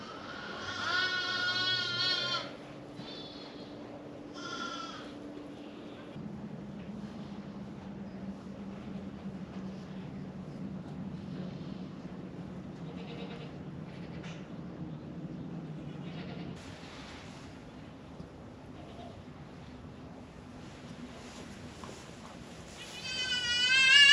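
Goats, one of them giving birth, bleat in a few loud, quavering calls at the start and again at the end, with a low steady hum filling the quieter middle.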